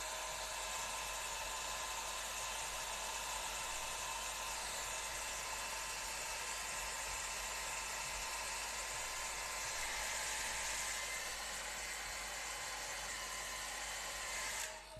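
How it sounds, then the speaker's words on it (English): A hair dryer blows continuously at a steady pitch on a wet acrylic painting, a constant whooshing hum that carries on unbroken with no talking. "I'm going to blast this with a hairdryer"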